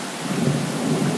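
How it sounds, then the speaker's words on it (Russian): Continuous low thunder rumbling over steady rain during a storm in Moscow, a close, even roar that fills the whole moment with no voices. "Пока вот гремит"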